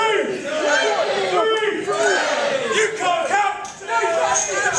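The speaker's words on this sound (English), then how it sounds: "the Gosport crowd" Wrestling crowd in Gosport yelling and cheering during a match, a loud continuous mass of overlapping shouts and chants with rising and falling voices.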